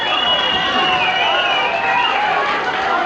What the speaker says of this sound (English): The crowd yelling.